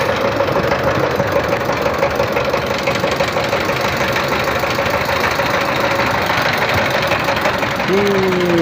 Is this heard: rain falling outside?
no